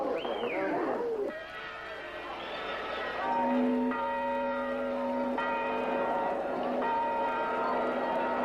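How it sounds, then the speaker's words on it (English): Church bells from St. Malachy's ring out on a snowy night through an opened window, sustained tolling tones layered with a singing voice and other background sounds at moderate, slightly distant volume. "If we open that window, we can hear the bells"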